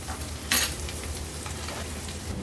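Onions fry in a pan while being stirred for egg rice, a steady sizzle with one sharp scraping stir near the start, close and moderately loud, no voices.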